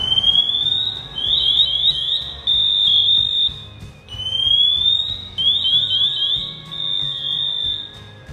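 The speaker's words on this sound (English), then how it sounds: "I have an alarm on my air pack, and it's gonna get real loud" A firefighter's air pack alarm sounds loud and close, a shrill electronic chirping pattern repeated in rising bursts with brief breaks, over a low background rumble.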